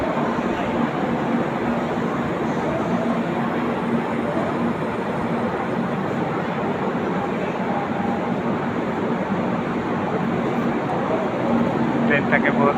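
The Vivek Express pulls out of the station with a continuous heavy rumble and clatter of rolling coaches, loud and near, holding steady as it departs.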